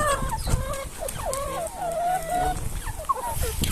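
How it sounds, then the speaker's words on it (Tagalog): Hungry chickens clucking and squawking close by, several overlapping birds calling in short rising and falling bursts, fairly loud. "Ayun yung mga manok nila, gutom na sila."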